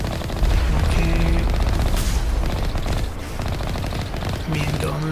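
Gunfire in Mass Effect Legendary Edition, rapid automatic bursts crackling steadily close by, with brief tonal game effects mixed in and a voice faintly underneath.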